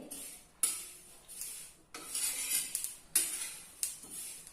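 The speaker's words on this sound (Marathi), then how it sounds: "मंद आचेवरतीच आपण तीळ हे व्यवस्थित भाजून घेणार आहोत" Sesame seeds stirred in a pan over low heat as they roast, giving repeated close scraping and rattling strokes with light clinks of the utensil against metal, about four sweeps in a steady rhythm.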